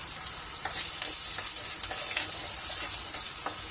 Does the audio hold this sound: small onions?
yes